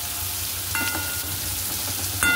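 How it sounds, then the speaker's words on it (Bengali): Pointed gourd pieces fry in oil seasoned with salt and turmeric, giving a close, steady hiss of sizzling with a couple of faint utensil scrapes, no talking. "দিয়ে একেবারে ভাজা বসিয়ে দিলাম।"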